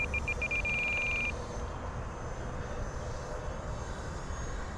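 A Hobby King Flycat V2 electric ducted-fan RC plane climbs steeply, its steady broadband fan roar continuous and fairly loud throughout, with a brief high beeping tone near the start.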